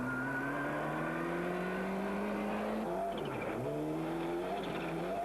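Ford Escort Cosworth rally car on the 1993 RAC Rally, its engine climbing steadily in pitch, then a gear change and a fresh rising rev, heard from a moderate distance.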